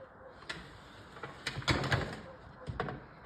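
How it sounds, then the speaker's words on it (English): An old lock cylinder is worked out of an arcade coin door on a Stargate arcade cabinet, giving a few scattered metallic clicks and clunks, with louder rattling bursts near the middle and end, all close by. "Let's get this old lock cylinder out of here first."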